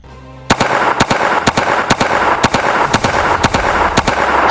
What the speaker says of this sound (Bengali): গুলি করতে থাকো।